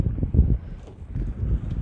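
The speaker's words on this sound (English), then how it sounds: "We are out on a windy one today. It's blowing approximately 10 meters per second" Gusty wind of about 10 meters per second roars low and steady across an open microphone on a lobster fishing boat at sea, with a rumbling, buffeting texture and no voices.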